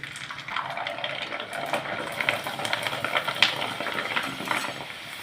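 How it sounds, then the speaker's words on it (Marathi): Rice khiche papad frying in hot oil, a close, busy crackling sizzle with bursts of spattering and occasional light clinks of a utensil, rising and falling in loudness for several seconds. "आता वाळलेल्या पापडांपैकी एक तुम्हाला मी तळून दाखवते."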